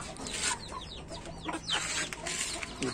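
Clucking from a single desi rooster in a backyard coop, a few short close calls scattered through steady low background noise.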